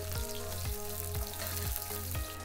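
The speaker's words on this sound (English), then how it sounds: "Now you put your carrot, because that's going to take a little while longer to cook than the rest of it." Carrot frying in a hot pan for an Asian-style beef stir fry, a loud, dense, continuous sizzle with a regular pulsing swell about twice a second throughout. No talking.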